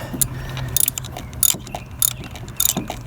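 A ratchet works a valve cover bolt loose on a 2002 Lexus ES 300 V6 in a cramped spot near the firewall, giving loud, close bursts of metallic clicking in short repeated strokes.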